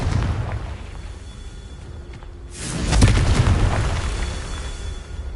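A deep, booming explosion from the Confringo spell in a Harry Potter video game swells out of low rumbling background noise. It peaks around the middle and then slowly fades away.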